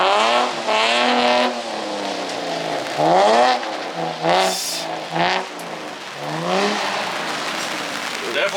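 A Nissan 350Z/Infiniti G35 drifts, its engine revving up and down in repeated surges with tire squeal, loud and fairly close, while voices talk intermittently.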